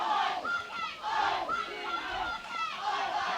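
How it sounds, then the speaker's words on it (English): A British crowd chants at a youth sports final, the 2019 European Youth Cup, its loud, rhythmic, sing-song phrases rising and falling in repeated waves through a large hall. "The British crowd are chanting now."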